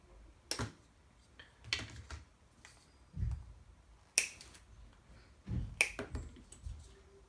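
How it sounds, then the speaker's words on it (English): Side cutters snip plastic arms for a 1/10 scale Pro-Line Pro-Fusion SC 4x4 short course RC truck off the parts tree, producing several sharp, close clicks spaced irregularly over quiet pauses. "Really handy to have a pair of these cutters to remove the plastic."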